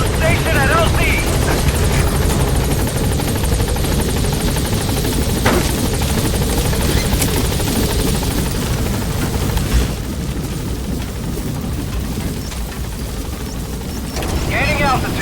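The Pequod support helicopter from the video game Metal Gear Solid V roars loudly at a landing zone, a dense rotor and engine wash filling the scene, with radio voice chatter over it and a dip in level near the end.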